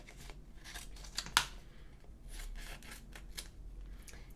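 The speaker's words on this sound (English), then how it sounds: "So now what I'm going to do is just cut off some of the excess or the extra vinyl." Scissors trim excess vinyl at a craft table, making faint, repeated snipping and rustling cuts with one sharper snip, heard alone.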